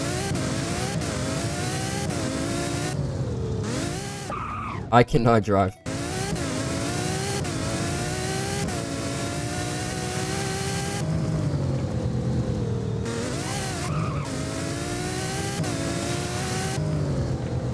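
De Tomaso P900 engine revving in the Driving Empire racing game, a loud sustained rising and falling exhaust drone with repeated throttle sweeps and a brief burst of noise midway, with a voice speaking over it.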